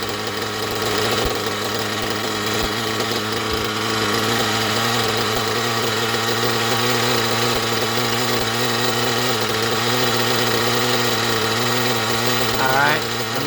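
Nitro RC buggy, an Ofna Hyper 7 with a Hyper 3 port turbo engine, idling rich with a steady buzzing drone and faint rattle throughout, loud and close, with a brief rev-like sweep near the end.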